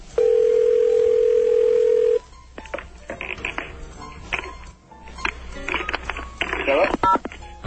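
A telephone call over a radio broadcast opens with a steady dial tone lasting about two seconds, followed by a rapid sequence of dialing tones and clicks, with faint ringing toward the end.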